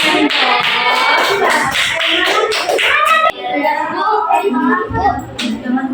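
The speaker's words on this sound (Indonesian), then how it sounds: "Tepuk tangan." A classroom of students claps their hands together, giving a dense, sustained round of applause that continues for several seconds and then thins out, with a few voices heard over it.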